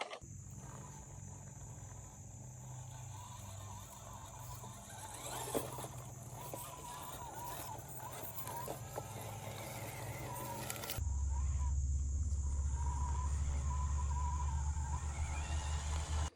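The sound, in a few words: RC truck driving up a hill in high gear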